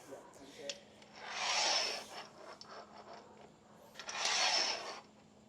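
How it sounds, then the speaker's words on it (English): Metal bolts slid along the grooves of a freestanding 4WD awning bracket, two drawn-out scraping rubs with small knocks between them, close and fairly quiet. "get your bolts and start sliding them through the grooves"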